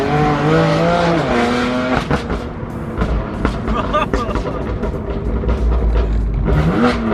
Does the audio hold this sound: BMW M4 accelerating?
yes